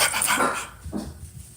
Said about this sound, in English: What you barking at though, Mama Luma?